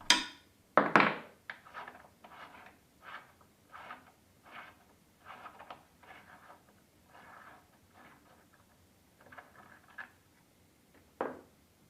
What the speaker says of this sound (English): Using the 6mm hex key supplied, remove the arbor bolt